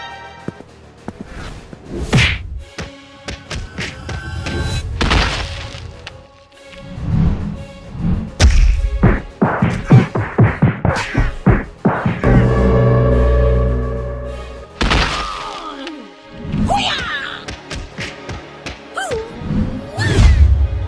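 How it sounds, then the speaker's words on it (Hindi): Fight scene impacts: a forceful kick and repeated heavy thuds, whacks and crashes with swooshes, loud and dense over dramatic background music, no clear speech. "लेकिन आलिया एक जोरदार किक मारती है।"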